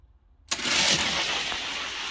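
Drag race cars, including a Plymouth Superbird, burst into a loud, sudden roar of engines that stays steady and close for about two seconds after a short quiet start.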